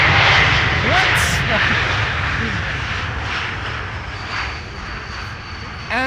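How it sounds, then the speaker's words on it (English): An Embraer E2 jet lands on Schiphol's Polderbaan runway with its thrust reversers deployed, a loud engine roar that slowly subsides, while faint voices come and go. "this is an E2 Embraer that has used its reversers"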